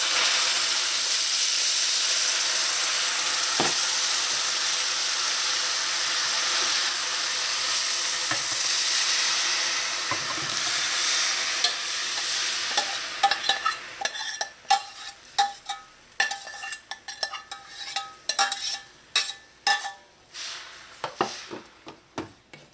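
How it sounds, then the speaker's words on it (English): Red beans dropped into bubbling caramelized sugar for Trini-style stewed red beans give a loud, steady hiss that gives way to sharp, irregular crackles and pops near the pan, with no voices. "just as your sugar starts to bubble, you want to add in your red beans"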